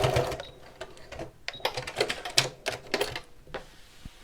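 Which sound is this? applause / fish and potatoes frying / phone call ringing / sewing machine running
sewing machine running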